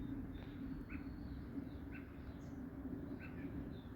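Bird calls outside a house near netted blueberry bushes: a few short, clear chirps repeat at intervals over a steady background hum, moderately near and not very loud, with no talking.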